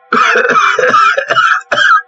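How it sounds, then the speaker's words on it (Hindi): A man coughs in several rough bursts, close and loud, with brief pauses between, the last cough coming after a short gap. "खांसते हुए बोलता है"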